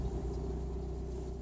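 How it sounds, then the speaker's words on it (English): A car's alternator with worn, unlubricated bearings whines steadily alongside the idling engine, a constant close drone with a sustained tonal hum and no break. "Car is making that silly noise again. It's the alternator."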